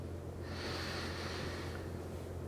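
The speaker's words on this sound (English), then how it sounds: "deepening your breath for a few inhales and exhales here" A single slow, soft exhale during a yin yoga session, a breathy hiss lasting about a second over a steady low hum in a quiet room.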